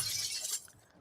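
Glass shatters on a 1972 Dodge Challenger: one brief, bright crash with a short scatter of falling shards that quickly fades.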